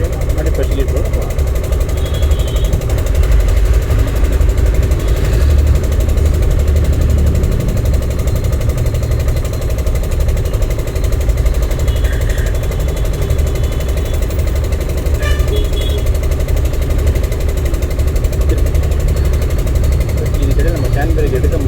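During a driving lesson, a car engine idles with a steady, low, even hum that runs the whole way through, with an instructor talking over it.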